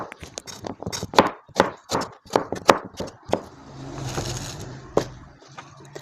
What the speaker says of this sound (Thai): แล้วก็หั่นเป็นชิ้นๆค่ะ